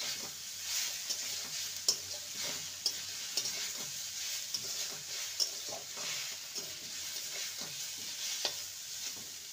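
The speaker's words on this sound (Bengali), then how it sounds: "সয়াবিনটাকে ভালো করে ভেজে নেব।" Soybean chunks frying in a pan, a steady close sizzle with occasional stirring scrapes and taps, no talking.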